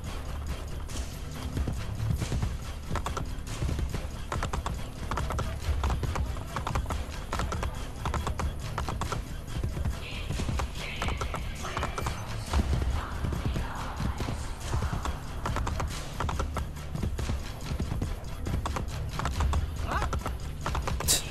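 Horse hooves clip-clop steadily while riding in the game Assassin's Creed Brotherhood, a continuous rhythmic trot set within dense, busy in-game ambience and music.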